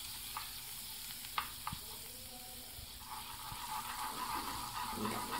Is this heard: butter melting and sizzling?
yes